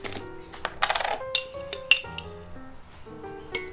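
Metal teaspoon scooping instant coffee and clinking against a glass or cup, a quick run of bright, close chinks and taps with short pauses between them.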